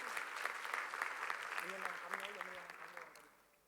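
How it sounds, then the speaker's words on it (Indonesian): A church congregation claps during a Sunday service, steady broadband clapping running through the clip while a voice talks over it, then fading toward the end. "Tepuk tangan yang meriah buat Tuhan Yesus."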